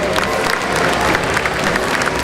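Audience at a gamescom 2010 live demo stage claps steadily, dense continuous applause from a crowd throughout the short stretch, fairly close.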